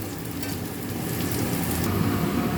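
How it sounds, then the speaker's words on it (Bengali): Sliced onions fry in oil to make crisp beresta for egg biryani, a continuous close sizzle and bubbling hiss that grows a little louder toward the end. "পেঁয়াজগুলোকে আমি এমনি তেলের মধ্যেই ভেজে বেরেস্তা বানিয়ে নেব।"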